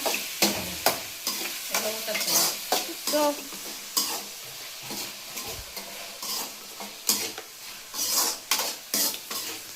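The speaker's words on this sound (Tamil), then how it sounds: "இப்போ இந்த அரைச்சிருக்கோம்ல தேங்காய் மசாலா போட்டு அதை போட்டு கலந்துக்க வேண்டியதான்." Beetroot curry being stirred in a pan as ground coconut masala is mixed in, with repeated scraping spoon strokes over a steady sizzle, close and fairly loud, no talking.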